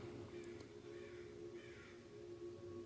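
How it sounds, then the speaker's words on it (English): Crows caw three times, faint and somewhat distant, each call a short raspy burst over a steady low background hum, with no talk. "there comes the crows"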